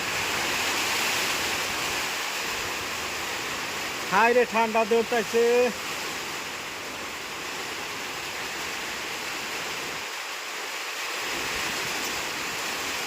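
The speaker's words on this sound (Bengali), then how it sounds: "তো এই যে সিস্টেমের বৃষ্টি আর প্রচুর বাতাস।" Heavy rain driven by strong wind among areca palms, a loud continuous roaring wash with gusty swells, briefly broken by a short spoken remark and a momentary dip in the noise.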